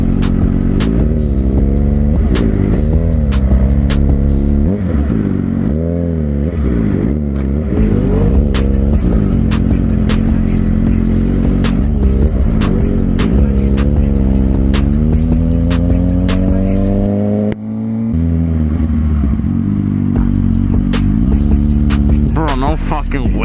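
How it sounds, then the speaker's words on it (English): A car engine revs and shifts while driving off-road, rising and falling in pitch with tire noise throughout, as people talk over it. "Some off-roading real quick."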